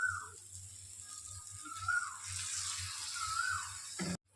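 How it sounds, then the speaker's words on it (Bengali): Water pours into a cooking pot of vegetarian shama-grain khichuri over several seconds, a close, continuous splashing stream with faint clinks of the pot, ending abruptly. "পরিমাণ মতো জল দিয়ে দিচ্ছি।"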